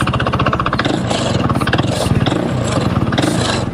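A KTM Duke motorcycle that had stalled after nearly overheating runs again after a restart, its engine putting out a steady, close, pulsing throb with no voices over it.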